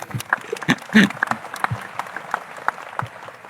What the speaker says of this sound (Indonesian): Tepuk tangan buat Kediri.